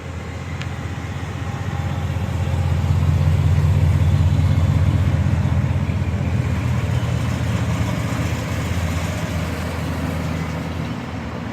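A diesel engine idles steadily at a classic car club show in Pottstown, a low continuous rumble that swells slightly in the middle and holds throughout with no talk over it.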